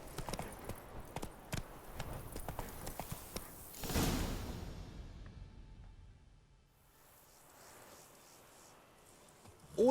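A horse's hooves clip-clop in a quick, even rhythm within The Witcher 3, close and clear, then fade out into a softer ambient whoosh, with no speech.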